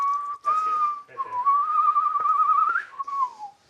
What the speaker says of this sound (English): Someone can whistle.